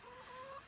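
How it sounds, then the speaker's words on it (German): A domestic hen clucking up close in a short burst of tonal, wavering calls. The bird is one of about six hens and has a partly paralysed leg. "darf ich vorstellen, das ist mein Huhn"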